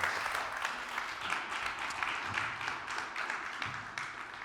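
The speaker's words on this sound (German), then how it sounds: "einen kräftigen Applaus für den Abgang" Sustained audience applause at an Allianz motor day event, a steady even wash of many hands clapping throughout, moderately distant with no talk over it.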